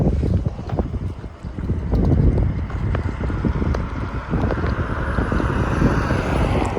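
Wind blows steadily through an outdoor rose garden, buffeting the microphone with a continuous low rumble and gusty swells throughout.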